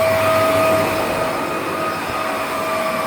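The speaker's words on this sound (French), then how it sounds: "je peux laver facilement mon sol sans avoir à sortir à la fois l'aspirateur et la serpillière" A Karcher FC5 hard floor cleaner washes a kitchen floor, giving a loud, steady motorized whir with a faint tonal whine throughout, close and continuous with no talking.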